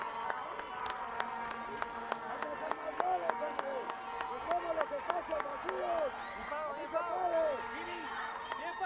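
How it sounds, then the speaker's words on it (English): Stadium crowd noise from football fans at Estadio Pensativo in La Antigua, Guatemala, after Guatemala's goal against the U.S. Virgin Islands, a steady roar with scattered cheers and whistles running under continuous commentary. "Giving the fans something to cheer about here in La Antigua, Guatemala."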